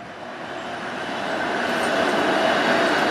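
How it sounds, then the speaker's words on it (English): Toronto 507 Long Branch streetcar rolling past on Lake Shore Boulevard West in Etobicoke, a loud, steady rumble of wheels on rails that swells as it draws nearer, with no speech. "Here's the 507 Long Branch streetcar."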